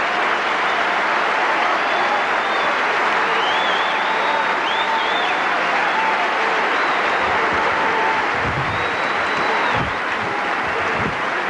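A stadium crowd of 23,000 applauds Pete Sampras and Marat Safin at the 2000 US Open men's final in New York, a dense, sustained roar of clapping with scattered whistles and shouts throughout.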